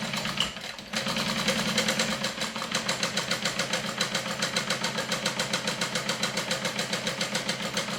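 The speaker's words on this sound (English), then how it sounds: "stitch it with a 3/8 of an inch seam allowance." A sewing machine runs steadily, stitching a seam on a garment's back panel with a 3/8-inch seam allowance, its rapid even needle pulses close and continuous after a brief pause at the start.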